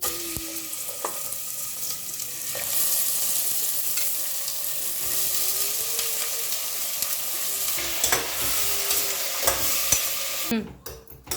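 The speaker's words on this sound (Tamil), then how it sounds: "கறி வதங்கிட்டு இருக்குதுமா." Mutton sizzles loudly in hot oil for several seconds while a utensil stirs and scrapes the pan, no voices, ending with a sudden clatter.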